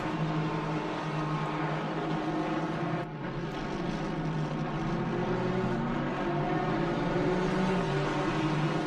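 Several GT3 racing cars in a sim racing game at Snetterton, a continuous layered engine drone with steady harmonic whine from multiple cars running close together, loud and without talk.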